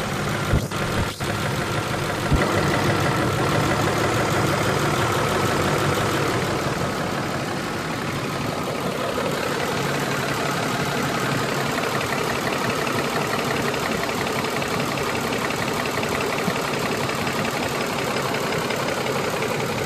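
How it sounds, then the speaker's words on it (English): A car engine idles steadily at close range, with a faint repetitive light tapping running through the low rumble; no one speaks. "that tapping that's in this engine"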